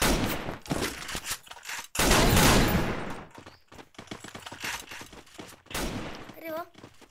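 Rapid bursts of gunfire from the Free Fire battle game crackle up close, dense automatic volleys separated by short gaps, with a weapon-switch chime near the end and a voice talking over parts of it.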